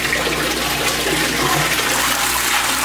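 An aquaponics bell siphon drains a grow bed with a loud, steady rush of gurgling water, continuous and close throughout.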